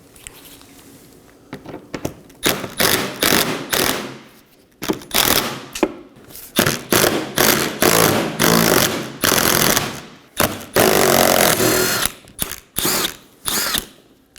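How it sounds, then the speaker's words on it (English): A power tool backs out 10mm screws from underneath the front bumper of a Nissan Maxima, producing repeated loud bursts of whirring and rattling in quick succession, close up, with short pauses between each screw. "we're going to locate 5 10mm screws and remove those as well."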